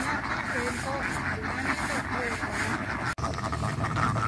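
A flock of ducks on a duck farm honk and quack repeatedly over steady outdoor background noise.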